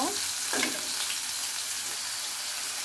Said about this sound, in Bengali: এখানে দিয়ে দিব মাংস যেটা স্লাইস করে কেটে রেখেছিলাম সেটা। এখন কিছুক্ষণ নাড়াচাড়া করে নেব।